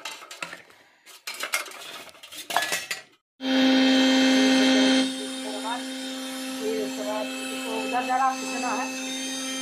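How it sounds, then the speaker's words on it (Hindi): An electric mixer grinder whirs loudly as it purées boiled, softened carrots for halwa, a sharp burst followed by a steadier grinding drone under some kitchen clatter. "इसको पहले मिक्सर ग्राइंडर में पीस लेते हैं"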